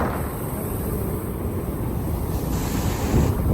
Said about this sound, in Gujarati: દરિયો ભરાઈ ગયો ને ભોયરાની અંદર પાણી જાય ને એનો નજારો કંઈક અલગ છે એ પ્રેશરથી પાણી બહાર આવે છે